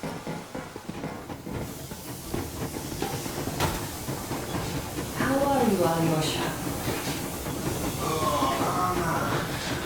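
A steam locomotive rolls steadily along in the game Metro Exodus, a continuous hiss and rumble with faint rail clatter running under conversation between characters.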